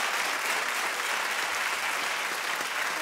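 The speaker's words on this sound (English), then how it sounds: "everyone, keep clapping" A studio audience at a daytime talk show claps continuously, a bright, even roar of hands holding steady throughout without any speech over it.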